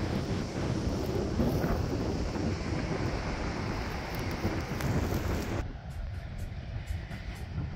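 Strong wind buffets the microphone on the Santa Catarina coast, a loud continuous broadband roar that steadies for several seconds before easing slightly in the final stretch, with no talk over it.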